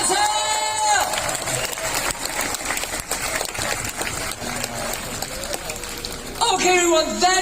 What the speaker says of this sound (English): give them a big round of applause for your captain, Enrico Ziegler, and your ship's captain